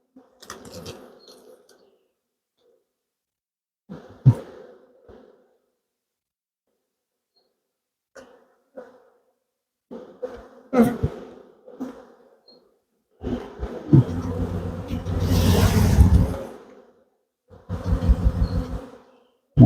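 Honeybees buzz at an open beehive as frames are removed, in intermittent bursts that are faint at first and then grow louder and denser up close, alone with no talk.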